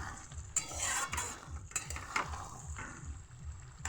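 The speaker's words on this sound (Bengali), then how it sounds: "এই যে পোস্তটা একটু নেড়ে নিচ্ছি যাতে তলায় যেন না লাগে কড়াইয়ের।" A spoon stirs poppy seed paste in a wok, the paste having soaked up its water. The scraping and stirring come close and repeat in an irregular rhythm over a faint sizzle, with no one speaking.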